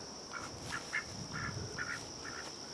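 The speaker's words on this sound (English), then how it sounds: "of course here's our ducks" Ducks on a lake at a state park, several short honking quacks repeating at irregular intervals, moderately close, over a steady high insect-like drone and outdoor ambience.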